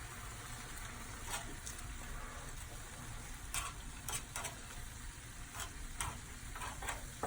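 Pork chops and cabbage stirred in a pan, a faint continuous sizzle with scattered scraping and tapping strokes of the utensil, no voices.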